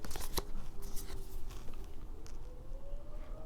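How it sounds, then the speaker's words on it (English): A tarot card deck is shuffled close up, with quick riffling bursts at the start and softer card rustles afterward. "And they shuffle nice."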